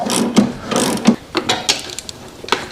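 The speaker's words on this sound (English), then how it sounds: "I can remove the rear caliper bolts." A hand ratchet works the rear brake caliper bolts loose on an Indian motorcycle, giving close, crisp clicking strokes in short irregular bursts with brief pauses between them.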